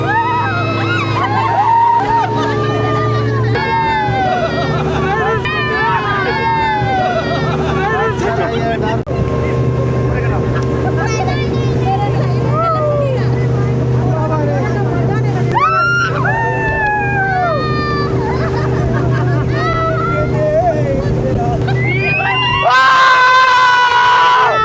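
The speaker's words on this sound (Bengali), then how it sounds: "টোটাল 14 জনা আমরা এখন চলেছি স্পিডবোটে" A speedboat carrying fourteen people pulls away on the water at Maithon Dam, its engine droning steadily and loudly beneath excited shouting and chatter from the passengers throughout.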